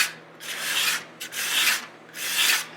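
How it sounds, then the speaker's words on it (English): A hand scraper is drawn along the glued binding edges of an acoustic guitar, peeling off shavings. Three broad rasping strokes of even length, close and fairly loud, separated by short pauses, with no talking. "Remove any of those sharp glue edges. Come back with the scraper."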